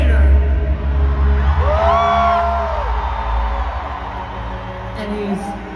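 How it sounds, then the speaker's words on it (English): Crowd at a Fan Expo evening event in Toronto cheering as a costumed performer is introduced, a dense roar with a rising whoop near the middle that slowly settles. "Please, a round of applause for his grand immortal dictator."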